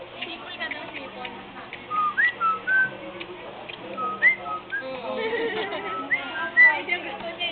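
A person whistling short, chirpy notes in scattered bursts, fairly close, mixed with murmured talk and background chatter.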